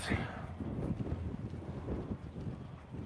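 Strong wind of about 23 knots roars across a Hanse 460 yacht under sail, a steady, loud, low buffeting rush with gusty swells and no clear voices.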